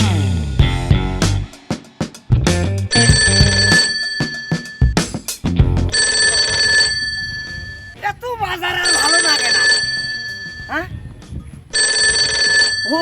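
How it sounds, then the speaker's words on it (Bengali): A telephone rings with a repeating electronic tone in several sustained bursts, loud and close, following busy voices and other sounds at the start. "জামাই ফোন দিছে"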